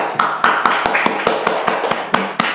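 Sparse clapping during a talk-show interview, roughly a dozen sharp, evenly spaced hand claps from one or a few people, close and crisp over a quiet room.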